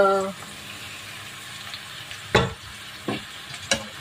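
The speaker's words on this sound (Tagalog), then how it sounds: "Priprito muna natin ito." Pork and eggplant half-cooking in a pan give off a steady, close sizzle, broken by three sharp clatters of stirring; a brief voice-like tone sounds at the very start.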